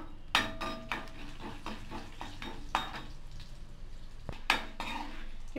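Chana dal, red chillies and asafoetida roast in oil in a pan as a utensil knocks and scrapes against the metal in a few distinct clanks, over a faint low sizzle.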